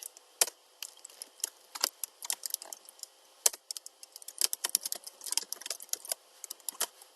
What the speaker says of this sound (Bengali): এটাতে একটু পাইথনে কোড লিখি